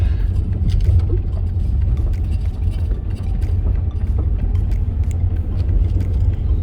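A vehicle rolls through a spread-out desert campsite near Quartzsite, its engine giving a loud, steady low rumble with tire and road noise close by throughout.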